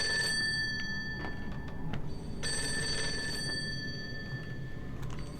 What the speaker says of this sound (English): Phone's ringing somewhere.